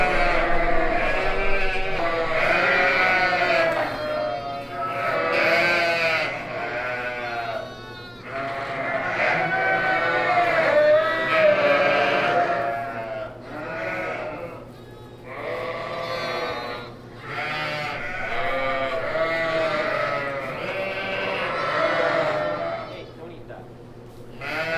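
Newborn lambs bleating repeatedly in a barn, overlapping high wavering calls that come close and loud in steady waves over a constant low hum.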